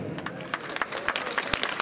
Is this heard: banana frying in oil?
no